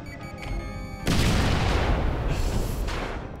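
An explosion in the video game ULTRAKILL erupts suddenly after a brief tonal passage, a loud, sustained roaring boom that slowly decays.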